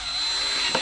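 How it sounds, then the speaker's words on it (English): A power drill driving into a bracket on a Peugeot Boxer L2H2 campervan conversion, a brief steady whir lasting under a second at close range, with no voices. "And then we're going to get the drill."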